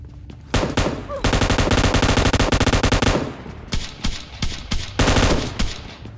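Gunfire in the video game PUBG Lite: long rapid automatic bursts, loud and close, followed by shorter separate shots and bursts.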